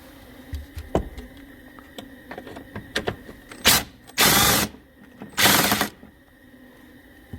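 An impact or power tool loosens 10mm bolts on a Jeep JK fender, with scattered light metallic clicks and taps followed by two close, loud whirring bursts of about half a second each.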